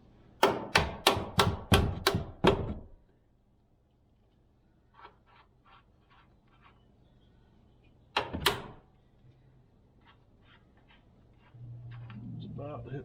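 Hammer tapping the ball joint nut on a 2015 GMC upper control arm, seven sharp metallic blows in quick succession, then a single later strike, with quiet workshop background between.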